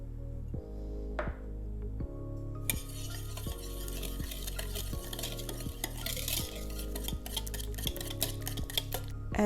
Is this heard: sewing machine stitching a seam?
no